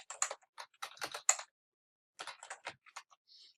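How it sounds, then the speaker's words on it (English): Quiet clicking on a computer keyboard in two bursts of quick keystrokes separated by a short pause, close and soft, with no voices. "type in birth date."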